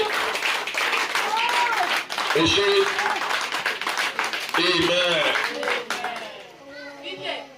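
A church congregation claps along in steady, loud rhythm, the hand claps mixed with singing and raised voices throughout.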